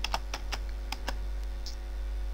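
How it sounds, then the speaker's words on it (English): Keys clatter on a computer keyboard while an address is entered into a web browser, giving a quick, irregular run of sharp clicks close by over a steady low hum, with no talking. "start typing"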